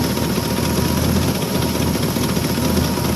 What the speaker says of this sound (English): And it's got an exhaust leak